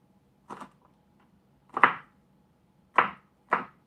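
A knife mincing garlic cloves on a board, four separate chopping knocks spaced unevenly, close and crisp against a quiet background.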